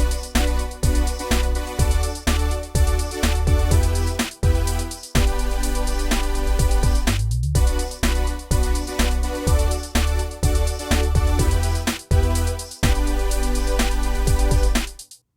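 A cheap, danceable pop groove plays loud and clean, with tight punchy drums locked to a thumping bassline under sustained chords. The steady pulse pauses briefly twice.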